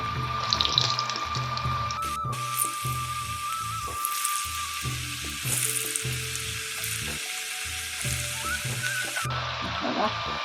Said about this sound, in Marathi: मस्त असे तळले जात आहे